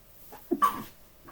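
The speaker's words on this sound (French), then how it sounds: "J'avais envie d'éternuer. Donc c'est sorti" A single short sneeze burst, close and fairly soft, with a breathy intake just before it and quiet air afterward.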